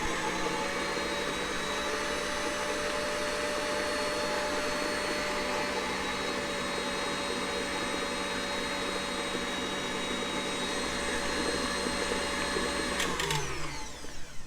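An electric mixer whips cheesecake filling for a chocolate-mousse cheesecake at high speed, giving a loud, steady motor whine close by that holds for about thirteen seconds, then winds down and cuts off near the end.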